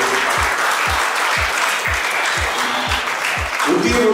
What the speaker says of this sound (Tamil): உங்களுடைய கரகோஷத்தோடு